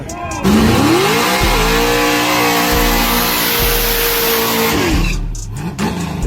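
A fourth-generation Pontiac Trans Am doing a burnout, its engine roaring loud and close at high revs with a sustained squealing tone over the roar, then easing off near the end.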